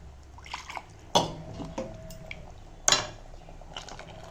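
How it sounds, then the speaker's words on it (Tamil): Water splashes and drips in a kitchen as a mixer jar is rinsed, with a couple of sharp knocks of the jar against a sink, fairly close. "இப்போ இந்த மிக்சி ஜாரை அலம்பி கொஞ்சம் ஜலம் பார்க்குறேன்"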